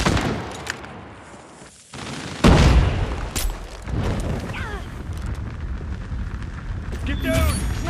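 A frag grenade explosion in Call of Duty Mobile lands as a sudden loud boom, followed by sustained gunfire and battle noise, with shouted voices in the mix.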